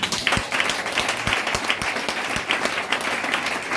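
A church congregation at a Pentecost service breaks into applause, dense overlapping clapping from many hands, loud and sustained from start to finish with a faint murmur of voices beneath.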